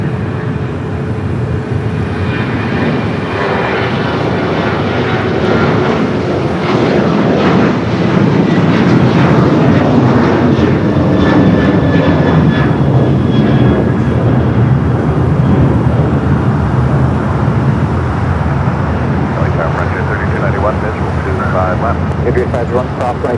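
A Boeing 737-900 jet takes off from Los Angeles airport bound for Cabo, its engines a loud, sustained broadband roar that swells and holds across the whole stretch, with a voice talking over it.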